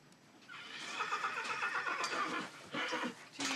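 A horse neighs and whinnies repeatedly over about three seconds while refusing a special feed of bran mixed with beetroot, loud and close, with a few shorter calls near the end.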